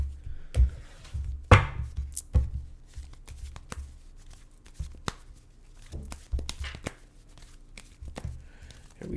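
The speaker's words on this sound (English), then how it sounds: "now I'm going to scoop these Rider-Waite deck cards" Rider-Waite tarot cards are gathered up and handled on a surface, giving scattered close slaps, shuffles and soft rustles at an uneven pace, with one sharper clack early on and quiet gaps between.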